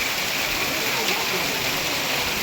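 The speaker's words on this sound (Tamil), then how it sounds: "இங்கே பாருங்கள் மக்களை சரியான மழை பாருங்கள் மழை விடுற மாதிரி தெரில" Heavy rain pours down during a stormy, windy spell. A dense, constant hiss of falling water stays even and loud from start to finish.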